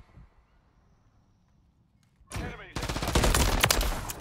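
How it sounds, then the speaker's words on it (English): Bursts of automatic gunfire in Call of Duty on a competitive multiplayer map, starting as a short volley and breaking into a loud, sustained stream of rapid shots after a near-silent opening. "Sorry, I'm shooting at everything."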